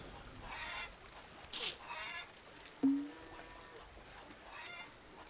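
Faint fowl-like clucks of chickens in a farming video game, with a single sharper honk-like call, soft background noise and scattered quiet sounds between them.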